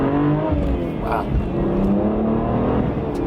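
A BMW 1M with a turbocharged N54 engine, full exhaust, N55 mid-pipe and Borla muffler, accelerating hard in a steady, loud drone that rises in pitch, with a brief exclaimed voice partway through.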